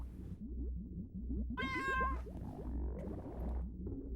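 A cat meows once, a clear, close, drawn-out call rising over a quiet background with a low rumble and faint ticking noises.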